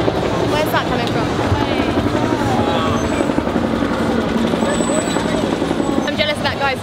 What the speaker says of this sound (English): That guy's drone shot.